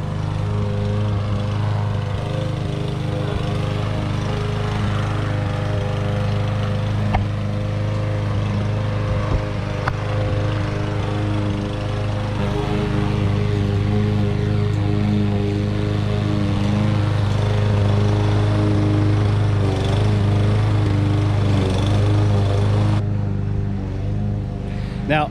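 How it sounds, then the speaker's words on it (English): A lawn mower engine runs steadily and loudly close by at a home lawn, a continuous droning hum with slight shifts in pitch over its length. "Welcome to my house, where Grandma mows the lawn."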